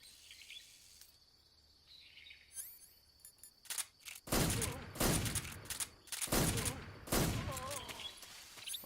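Gunshots in Metal Gear Solid Delta ring out after a quiet stretch of faint ambient chirping, coming as a few loud, sharp cracks close together in the second half.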